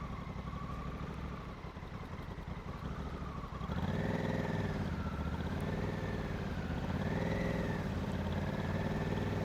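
A motorcycle engine runs nearby with a throaty exhaust rumble, revving up partway through and then pulsing in steady rising and falling waves.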